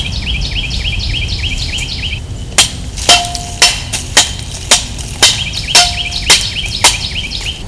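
A digging tool strikes the ground in a search for a metal detecting target, giving about ten sharp thuds at a steady rhythm close by. Birds chirp in the background.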